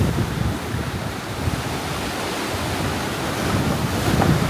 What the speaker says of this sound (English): The water is extremely rough.